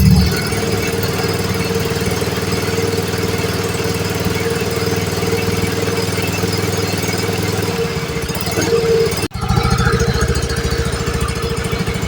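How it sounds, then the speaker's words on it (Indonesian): A Honda Vario 110 scooter engine runs at raised revs with a steady, buzzing throb, close and loud, dipping briefly near the end before settling back to the same drone. "Boleh ditarik gas sedikit atau dinaikkan RPM-nya."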